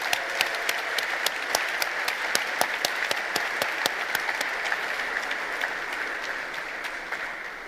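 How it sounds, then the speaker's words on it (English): Applause at the PES Congress for the band, a continuous even wash of clapping from a large hall audience, steady throughout with a slight fade near the end. "I want us to give a big applause to the band that played in the beginning"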